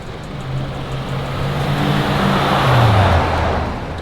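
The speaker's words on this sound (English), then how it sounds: "This dude didn't even turn off his car." A Dodge Hellcat left running with its engine idling nearby, a deep steady rumble that swells slightly and dips in pitch toward the end, loud and close with no talking over it.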